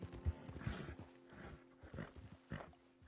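Horse hooves clip-clopping at a steady walk in a western roleplay video game, with several soft rhythmic hoof strikes close by; no whinny stands out clearly.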